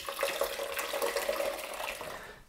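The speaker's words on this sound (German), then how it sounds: "die Brühe gebe ich jetzt durch ein Sieb" Vegetable broth is poured through a sieve, a continuous splashing trickle of liquid lasting a couple of seconds, close and moderately quiet, tapering off at the end.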